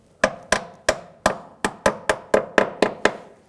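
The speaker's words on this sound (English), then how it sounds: "You take a little hammer" A small hammer taps a brake hose clip into place on a 2009-2017 Volkswagen Tiguan front brake hose, giving about a dozen sharp, close metallic knocks at a steady, slightly quickening pace, with no talking.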